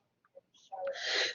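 A single sneeze rings out at moderate distance, a couple of small breathy catches leading into one sharp burst that trails off over about a second.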